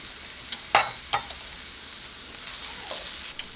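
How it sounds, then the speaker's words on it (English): Chopped onions and other vegetables with flour cooking in a pan over a backcountry stove, a faint steady sizzle broken by a few sharp scraping clicks of a utensil stirring. "I'm going to stir those around until they cook down a little bit."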